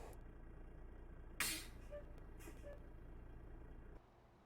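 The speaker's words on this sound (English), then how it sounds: "Sounds like the engine is louder in the cabin" Engine of a big tractor heard from inside the cab in American Truck Simulator during winter heavy hauling in Colorado, a steady low rumble and drone with a brief hiss of air releasing midway, cutting off near the end.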